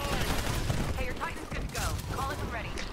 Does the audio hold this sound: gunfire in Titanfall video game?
yes